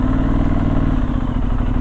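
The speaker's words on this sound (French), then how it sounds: "Et un moteur, même quand on fait vroom vroom comme ça" A Benelli Leoncino 800 T motorcycle engine runs close by with a deep, steady throb and light mechanical clatter, idling or revving gently without talk.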